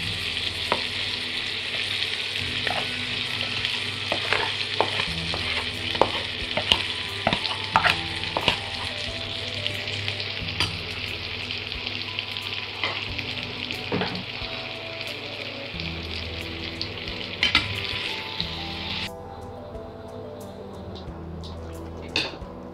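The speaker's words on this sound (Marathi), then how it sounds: "आता थोडंसं पुन्हा तेल घालून त्यात हा गूळ जो आपण घेतलेला आहे तो आपण शिजत करूया व त्याचा पाक करूया." Jaggery cooks in oil into a syrup for sweet and spicy Goan raw mango pickle, giving a continuous bubbling sizzle with scattered stirring clanks of a utensil against the pan; the hiss drops away near the end.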